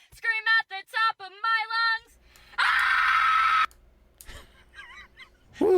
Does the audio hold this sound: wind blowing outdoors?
no